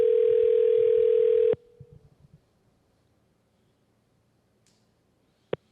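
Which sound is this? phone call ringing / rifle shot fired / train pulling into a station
phone call ringing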